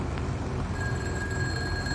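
An electronic telephone bell rings inside a tank in a Russian-tank video game, a steady trilling tone over a low engine hum with no talk.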